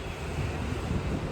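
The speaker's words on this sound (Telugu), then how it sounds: "అసలు ఇలాగ వస్తుంది గాలి అయితే" Wind gusts outdoors on a cool, overcast day, giving a short, steady rush of noise that buffets the microphone, with no voices.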